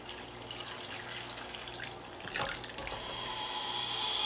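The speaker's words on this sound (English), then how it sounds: "I'm going to put a strainer over top. And so I'm going to just pour the" Dark green food scrap dye poured through a strainer into a big pot over a macramé plant hanger, a steady close running splash like a tap filling a sink, swelling slightly toward the end.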